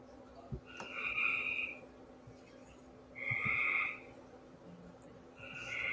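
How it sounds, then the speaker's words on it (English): Frogs croaking outdoors, several trilling calls that swell and fade in separate bursts a couple of seconds apart, moderately far off over a steady low background hum. "You hear my frogs, Jim?"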